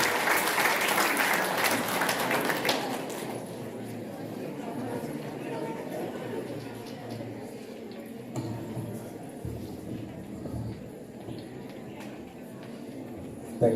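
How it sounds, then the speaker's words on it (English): Conference audience at a dental and facial aesthetics meeting breaking into loud, dense applause that thins after about three seconds into a softer spatter under murmuring room chatter. "Please welcome, sir, with a huge round of applause."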